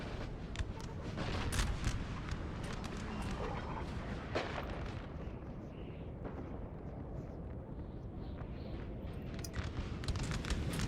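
Napoleon Total War battle with six-pounder artillery and infantry, heard as a steady wash of distant cannon booms and scattered musket cracks rolling on continuously without a break.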